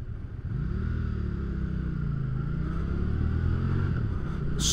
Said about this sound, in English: Smooth burble from that V-twin.